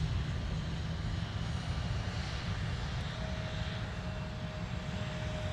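A SkyWest airliner arriving at MSP airport from Madison, Wisconsin, a steady distant engine roar holding even throughout with a faint tone emerging near the end.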